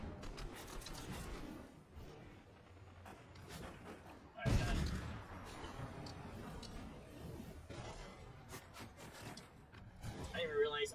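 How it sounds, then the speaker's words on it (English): Gunfire in a battle-royale video game, with a sudden loud burst of shots partway through over a busy background of game noise and a player's chatter. "Who's shooting at me?"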